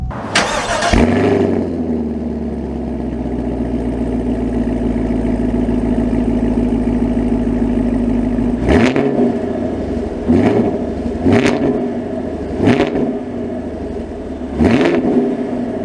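A 2022 Chevy Camaro LT1's V8 cranks and fires with a sharp loud roar, settles into a deep steady idle, then pulls away with several short revving bursts as gears change, close and loud.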